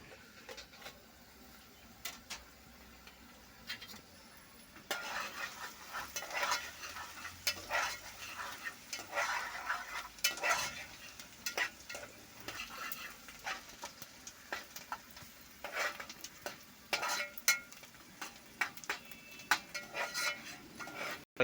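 Masala cooking down in oil in a pan for a raw prawn curry: a low, steady sizzle that grows busier partway through, broken by frequent light scrapes and clicks of a spoon, close by with no voices.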